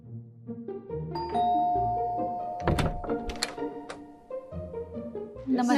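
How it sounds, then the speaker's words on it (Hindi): A doorbell chimes with ringing tones amid a few dull thunks, over a soft tonal background. "और अब चलिए बजाते हैं किसी घर की घंटी।"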